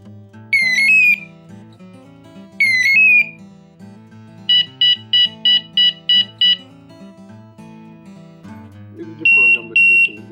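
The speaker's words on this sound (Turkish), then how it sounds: "Altıncı programda da bu sesi duyacağız." A Guntack hunting dog collar beeper runs through its tones: two warbling chirps, a fast burst of six sharp beeps, then longer steady piercing tones.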